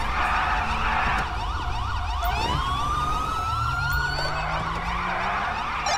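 Ambulance siren in the LSPDFR police video game, a rising and falling electronic wail joined by a second sweeping tone partway through, loud and close over steady engine rumble, with no talking.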